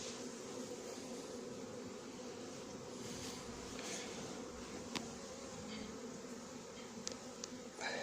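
A close, continuous drone of honey bees from a recovered swarm hums steadily at low volume, with a few faint clicks and knocks scattered through.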